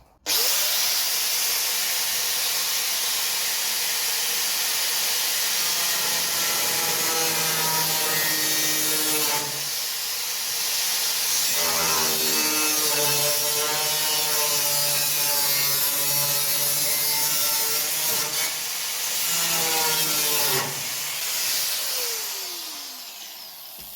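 Continuous loud power-tool cutting through the steel rear panel of a Classic Mini MK3 during restoration, steady whine with pitch shifts and two brief pauses near 9 and 20 seconds, no talking.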